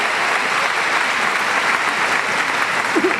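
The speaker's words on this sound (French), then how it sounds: "applaudissez-le quand même" Dense, loud applause from a large audience at the opening gala of the Lumière film festival in 2017, a sustained, even wash of clapping with no letup.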